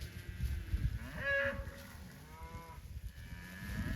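Cattle on a farm with winter approaching moo a few times at moderate distance, low drawn-out calls rising over a rumbling outdoor background.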